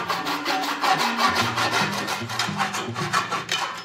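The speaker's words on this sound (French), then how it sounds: "Allez, on essaye de scier ça là." A hand saw cuts through wood for a homemade rug, giving a steady run of rasping back-and-forth strokes at a quick even rhythm, close and fairly loud, alone without talk.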